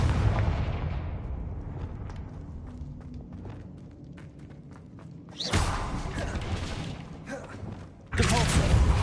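Fire spell blasts in Hogwarts Legacy gameplay: rumbling booms and crackling bursts erupt in a couple of heavy waves over a low, busy game soundscape, loud and close, with a voice talking in between.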